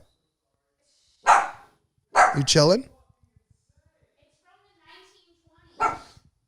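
A dog barks a few sharp times close by, with short yips between, and a person speaks briefly in between the barks.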